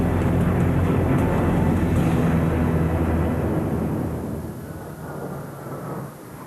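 Blue Angels jet aircraft fly an air show, a loud, deep, rumbling roar that fills the air and slowly fades as the jets pass into the distance.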